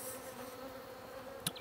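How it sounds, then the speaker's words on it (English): Honey bees buzz in a steady, low, even drone around an open hive while a beekeeper creates an artificial swarm. The buzzing is faint and continuous, with one brief sharp click near the end. "So what we have here is the queen and all of the flying bees."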